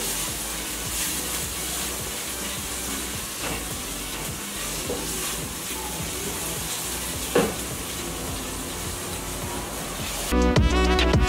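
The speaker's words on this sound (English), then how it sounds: "I'm going to cook the onions until they are golden brown" Onions frying in a pan before rabbit meat is added, a steady close sizzle and hiss with occasional stirring clinks, ending in a brief burst of music.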